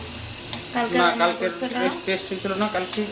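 Gol fish sizzles and spatters in a hot pan with spices, a steady crackling fry close by while people talk over it.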